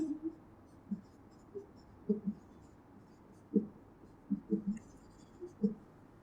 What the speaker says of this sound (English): so I can write the first heading here, reflection of light.